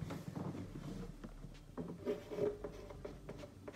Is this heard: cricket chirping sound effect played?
no